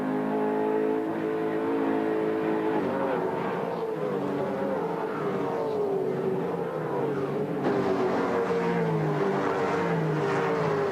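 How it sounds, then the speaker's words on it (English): A V8 Ford Falcon EB race car engine howls at high revs around the Bathurst circuit, a loud, sustained roar with shifting pitch as it accelerates and changes gear, heard without talking. "Listen to the sound of the V8 Ford"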